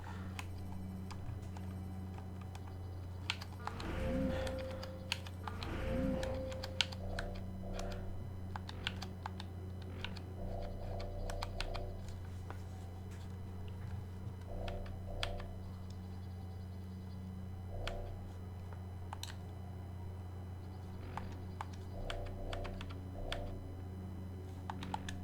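Steady computer keyboard typing with scattered key clicks and short bursts of taps over a constant low hum, continuing through the whole stretch, with no talk.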